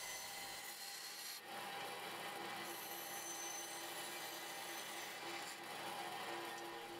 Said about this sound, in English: Over at the bandsaw, I can easily cut out all the notches for each of the four pieces.